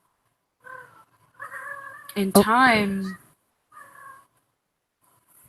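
A house cat meows loudly and close by, one drawn-out rising and falling call in the middle, with a person talking softly before and after it.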